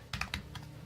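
A few quick clicking keystrokes on a computer keyboard, four light taps close together, then quiet.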